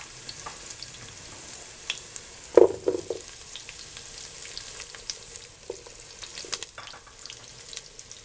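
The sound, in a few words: onion sizzling in a pan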